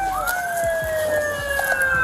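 Police car siren wailing continuously through a violent carjacking chase, its rising and falling tone sweeping steadily and loudly, with a faint engine rumble underneath and no talk.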